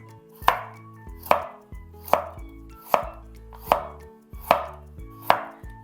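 A kitchen knife slices a carrot into thin julienne strips, giving seven crisp, evenly spaced chops against a cutting board, each a sharp close knock with a short tail, steady in rhythm and with no voices.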